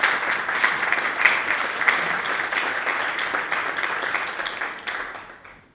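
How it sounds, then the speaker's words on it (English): An audience at a health policy conference panel applauds as panelists come on stage, a full, continuous burst of many hands clapping that holds steady and then fades out at the end. "give them a round of applause"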